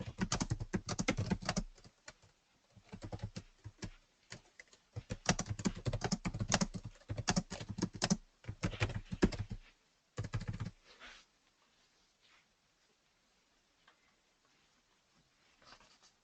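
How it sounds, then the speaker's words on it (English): Typing on a computer keyboard while writing a blog entry in a web editor: dense runs of quick clicking keystrokes in bursts for about ten seconds, then near silence with a few faint taps. "typing the blog entry."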